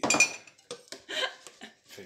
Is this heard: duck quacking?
no